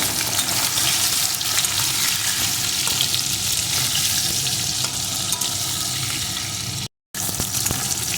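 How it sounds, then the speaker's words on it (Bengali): Pointed gourd pieces frying in oil with potatoes for a vegetarian pumpkin and potato sabji, a steady loud sizzle with faint stirring scrapes running throughout and a brief dropout near the end. "এখন পটলের টুকরোগুলোকে দিয়ে দেব পটলটাও সুন্দরভাবে ভেজে নেব"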